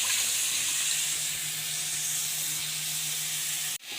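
Prawns frying in hot oil in a wok, a loud, steady sizzling hiss that carries on without a break before cutting off abruptly near the end.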